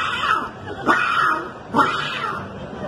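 A street beatboxer in Mexico City vocally imitates a cat, giving two drawn-out meowing cries in close succession, loud and near, with no other talk.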